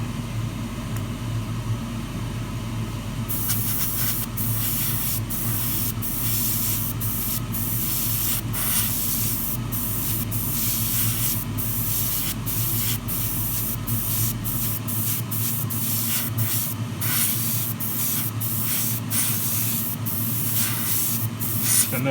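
Airbrush spray hissing steadily while painting Tamiya LaFerrari 1:24 scale model chassis and suspension parts, a continuous close hiss with brief clicks and short bursts throughout, no voices.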